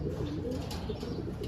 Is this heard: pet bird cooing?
yes